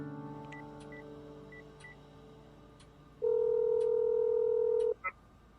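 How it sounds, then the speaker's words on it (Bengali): A telephone call being placed: a steady dial tone, then a series of short DTMF keypad beeps, then a long, loud ringback-style tone that cuts off abruptly near the end, followed by a brief click. "মেসেজটা পড়ে রমন মিস্টার গাঙ্গুলিকে ফোন করল"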